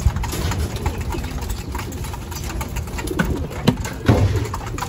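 A racing pigeon, a checkered white flight bird, lands at its loft after a training flight in Cuyapo, Nueva Ecija, giving soft close coos and brief wing shuffles over steady outdoor background noise.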